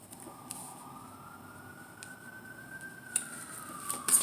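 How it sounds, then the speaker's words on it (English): Emergency vehicle siren outside, a faint distant wail slowly rising and falling in pitch, with a few soft knocks and taps nearby. "You hear the sirens."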